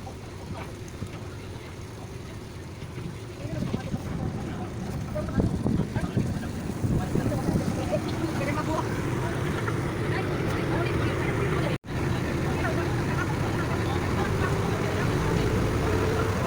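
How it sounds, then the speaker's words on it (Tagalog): A ferry crossing a calm sea toward Lapu Lapu City gives a steady low engine drone with constant wind rush and faint indistinct voices. The sound cuts out for a moment near the middle, then carries on. "as we travel via ferry boat going to Lapu Lapu City"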